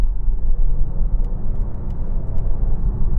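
A hybrid SUV accelerates hard at full throttle from 40, producing a steady, loud low rumble of engine and road noise with no talking.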